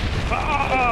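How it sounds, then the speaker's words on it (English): An explosion booms in the Modern Warfare 3 video game during a multiplayer match, a short loud blast with a ringing tail in the middle of battle noise. "There's an explosion."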